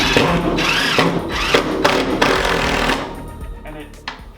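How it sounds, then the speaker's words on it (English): A long screw is driven deep into a small wooden scab board during barndominium rough-in framing: a loud, close, pulsing whine from the power driver in several bursts that tapers off near the end. "push that screw deep into the wood and suck down"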